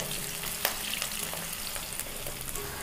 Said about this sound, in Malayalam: പിന്നെ കറിവേപ്പില, ഇതിട്ട് നന്നായിട്ടൊന്ന് ചെറുതായിട്ടൊന്ന് വഴറ്റിയെടുക്കണം.